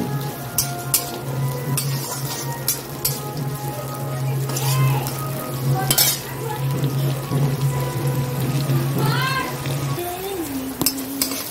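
Onion and green chilli are added to hot oil with black cumin (kalonji) while cooking a fish curry, a steady sizzle with clinks of a spatula against the pan and a voice talking over it.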